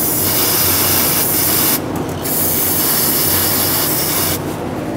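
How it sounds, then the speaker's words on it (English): Brake parts cleaner hisses from an aerosol can onto fuel line connections during a fuel pump job on a 1999-2007 Ford F-350 7.3L Powerstroke. The spray runs as a steady, close hiss broken by two brief pauses. "I'm gonna spray some brake parts cleaner where it connects to get all of the sand and debris out of there."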